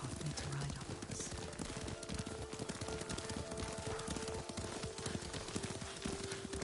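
Horse hooves clip-clop in a steady, dense rhythm as the horse is ridden in Ghost of Tsushima, a continuous fairly quiet patter under a brief bit of other game sound.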